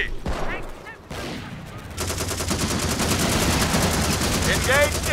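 Sustained automatic gunfire and rapid shots in a Company of Heroes battle set in the Battle of the Bulge, a few sharp bursts early then a dense, continuous fusillade building loudly to the end, with faint radio chatter mixed in.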